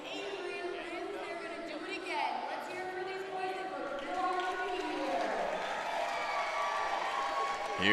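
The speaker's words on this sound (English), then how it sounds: "Crowd popping off" Crowd at a 9U Ninja vs Ninja championship cheering and chattering in an indoor arena, a steady wash of voices with whoops rising toward the end, mixed with nearby talking.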